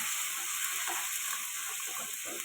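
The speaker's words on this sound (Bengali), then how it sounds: "এটা ভালো করে কষাতে হবে, কষিয়ে কষিয়ে শুকনো করে নিতে হবে।" Mashed pointed gourd being sautéed until dry for a Bengali potol bhorta, giving a continuous soft hissing sizzle close by with faint stirring underneath and no voices.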